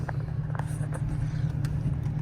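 A Chevrolet Camaro SS in sport mode idles with a steady, deep engine rumble that stays even throughout, with faint clicks and small noises in the cabin.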